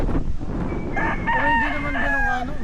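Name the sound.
chickens and rooster crowing near a storehouse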